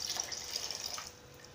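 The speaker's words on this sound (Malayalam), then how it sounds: "ഇനി ഇതിൽ കുറച്ച് വെള്ളം ആഡ് ചെയ്യാൻ പോവാണ്." Water is poured into a pan of horse gram stir-fry in a Kerala-style kitchen, a short splashing trickle up close that tapers off after about a second.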